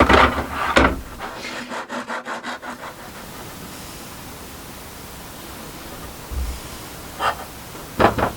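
A small piece of bamboo from a cutlery tray is sawn to size by hand, with a short run of rapid rasping strokes near the start and a few isolated scrapes and knocks later, close and fairly loud.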